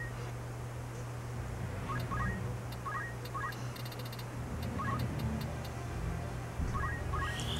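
Chicken-like clucks and gobbles repeat in short paired bursts over a steady low hum, from a character turned into a chicken in the video game Final Fantasy Tactics.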